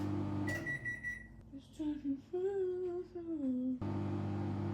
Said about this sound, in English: It mostly blocks out the drone of the microwave.